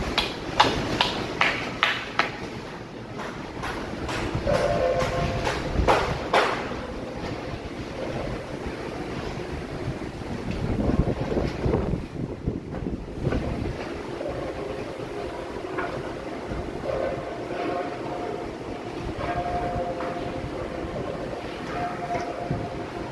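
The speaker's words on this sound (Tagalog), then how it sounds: "Lakas pa rin ng hangin." Steady, heavy roar of Typhoon Uwan's strong wind in San Juan, Metro Manila, blowing continuously with rumbling gusts and some rattling early on, loud and close throughout.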